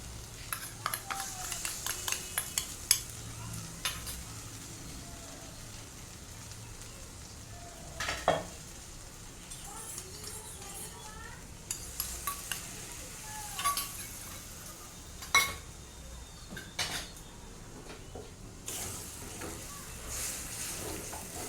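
Fish curry spice paste with salt and turmeric water sizzles and fries steadily in a pan, with frequent stirring scrapes and occasional clinks of a utensil against the metal.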